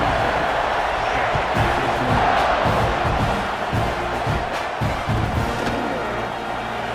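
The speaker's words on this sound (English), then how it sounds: "this crowd is buzzing after that last score" Stadium crowd noise in a video game college football match featuring the Buckeyes, a steady loud roar and buzz of fans with scattered cheers and thuds that continues throughout, with no commentary heard over it.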